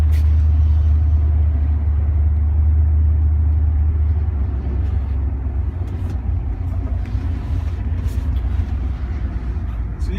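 A 1959 Cadillac Coupe's engine runs steadily with a loud, deep low rumble that stays constant throughout, close by and with no one talking over it.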